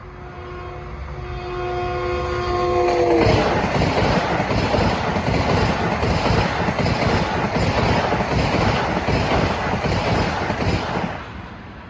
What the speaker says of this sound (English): I love this line because you can stand at ground level and see these flying trains go by.